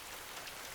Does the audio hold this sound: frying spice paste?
no